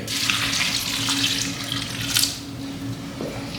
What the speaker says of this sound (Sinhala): දාන්න පොල් කිරි ටික මේ මිටි කිරි මේ දිය කිරි ටික.